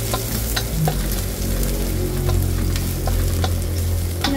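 Garlic fries in heated cooking oil, a loud, dense, continuous sizzle close up, with occasional sharp crackles and pops and no talking.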